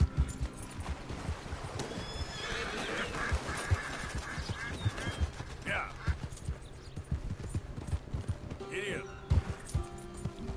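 A horse in Red Dead Redemption 2 trots with rhythmic clip-clopping hooves and lets out a whinny, while a person talks over the game sounds.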